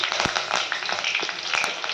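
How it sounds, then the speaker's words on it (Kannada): Mustard seeds sizzle and crackle in hot oil in a pan, a loud continuous fizzing hiss dotted with sharp pops, close up and with no talking. "ಎಣ್ಣೆ ಒಂದಿದೆ, ಸಾಸಿವೆ ಹಾಕಿದ್ದೀನಿ"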